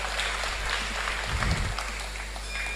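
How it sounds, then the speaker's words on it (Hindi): Loud, sustained applause from the audience at a Hindi hasya kavi sammelan poetry recital, filling the hall evenly, with a low rumble partway through and a constant hum underneath. "एक बार जोरदार तालियां बजा दीजिए।"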